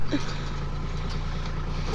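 A close, steady tractor engine idles with a deep rumbling drone, loud and continuous for the whole moment.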